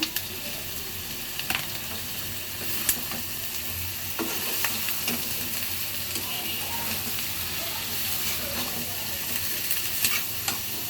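Bitter gourd and potato fry in a pan, with a steady crackling sizzle and faint hiss, broken by occasional clicks and scrapes of stirring.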